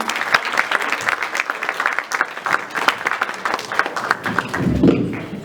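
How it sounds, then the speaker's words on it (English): Applause from an audience at an International Women's Day community event, a dense steady patter of many hands clapping for about five seconds, fairly loud and close, with a few thumps toward the end. "can we please give a round of applause to Ansam?"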